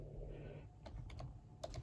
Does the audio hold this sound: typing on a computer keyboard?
yes